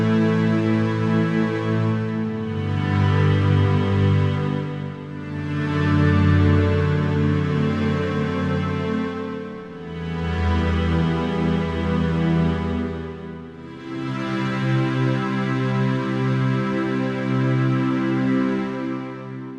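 Lush, slowly evolving synthesizer pad chords from the Exoria Orchestra preset swell and fade in long sustained waves, shifting harmony every few seconds, rich and cinematic.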